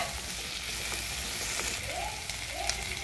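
Chopped onion and tomato sautéing in a pan for Kolhapuri kat vada, a steady, even sizzle throughout with faint stirring.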